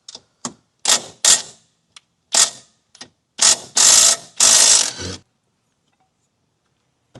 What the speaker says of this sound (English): These are E16 bolts, so you need E16 socket for this.